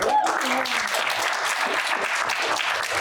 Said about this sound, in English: You don't have to clap if you don't want to